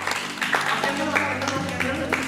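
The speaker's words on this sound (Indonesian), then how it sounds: "sekali lagi tepuk tangan semuanya" Applause at a lively birthday celebration on a live podcast set, with a steady wash of clapping from a small group close by, mixed with voices talking over it.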